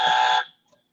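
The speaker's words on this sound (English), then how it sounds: "I can buzzer myself." A harsh electronic buzzer sounds once for under half a second, loud and close, then cuts off abruptly to silence.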